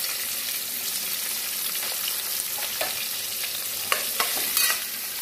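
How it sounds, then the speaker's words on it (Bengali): Onions frying in white oil for an egg chicken biryani, a steady soft sizzle with occasional scraping stirs of a spoon in the pan, fairly close and unaccompanied by speech. "পেঁয়াজগুলো একটু লাল লাল করে ভেজে নেব।"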